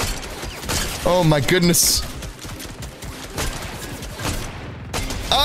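Rapid gunfire from a DMR rifle in the Fortnite video game, several shots and booming hits crackling over ongoing game action while a player talks.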